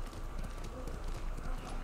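Horse hooves clip-clop in a steady rhythm at close range in the video game Ghost of Tsushima, with a voice talking over them.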